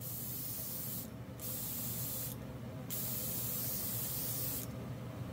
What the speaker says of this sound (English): you can do a lot of full trigger pulls like this with this kind of air compressor